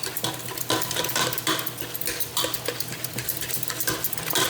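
Cooked sweet potatoes being mashed in a pot, a steady run of quick squelching, scraping strokes close up, with no talking.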